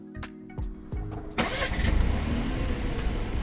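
A few clicks, then the gasoline engine of a Peugeot 3008 1.2 PureTech cranks and catches, settling into a steady, smooth idle close by.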